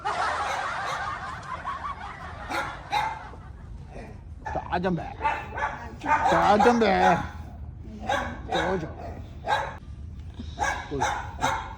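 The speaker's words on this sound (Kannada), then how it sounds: "ನಾಯಿ ಓಡ್ತಾ ಉಂಟು ಇವಳನ್ನು ನೋಡಿ" A dog barks in several short bursts between stretches of excited talking and laughter, fairly close.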